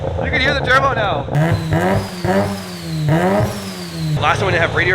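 Close, repeated revs from a turbocharged rotary-engined car climb and drop in pitch several times, each with a whining sweep, as voices speak over the engine.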